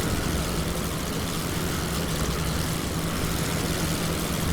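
A formation of four WWI aircraft in the game Wings Over Flanders Fields drones overhead, a dense, steady roar of propeller engines filling the whole stretch with no break.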